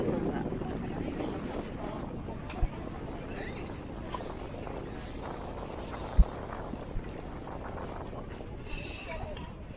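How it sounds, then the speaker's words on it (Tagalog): Steady rushing wind buffets the microphone with a low roar throughout, with a few thumps and faint voices underneath. "sobrang hangin dito"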